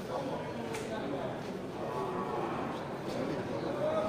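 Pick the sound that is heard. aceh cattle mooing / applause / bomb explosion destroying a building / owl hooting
aceh cattle mooing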